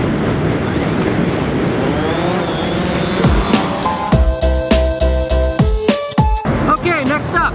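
A DJI Phantom 4 drone flies in strong, gusty wind. Steady wind roar comes first, then the drone's motor whine rises into sustained high tones cut by clicks and buffeting bursts, loud and close.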